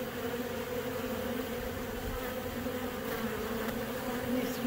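Tiger-striped honey bees swarming in a backyard make a steady, dense buzz that holds without a break from start to end, close and even in loudness.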